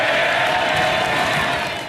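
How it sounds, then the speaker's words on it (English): MPs applauding in room 14 of the Houses of Parliament after a confidence vote result for Prime Minister May: dense, loud, sustained clapping from a crowded room, steady throughout and tapering only slightly at the end. "The applause was loud and long"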